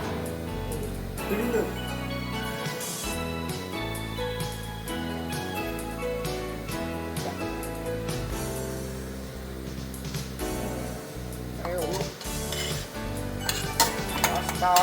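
Pasta stirred and mixed in a pan with coriander and lemon, with continuous scraping and clinking of a utensil against the pan over a light sizzle and a voice talking throughout.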